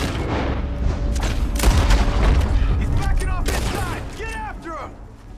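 Gunfire rings out from a barn during a shootout in Red Dead Redemption 2, a barrage of loud cracks and booms with whistling, ricochet-like tones toward the end and some talk mixed in.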